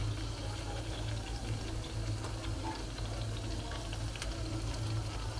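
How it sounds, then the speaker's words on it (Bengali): Fuchka puri shells fry in hot oil with a low, steady bubbling and fizz, and faint ticking clicks come through over a constant rumbling background. "তো এইভাবে ফুচকাগুলোকে ভেজে নিতে হবে।"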